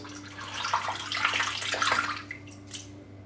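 A Bic Flex razor clogged with shaved head hair gets a quick shake in water, producing brief sloshing and splashing bursts close up, then a couple of small drips.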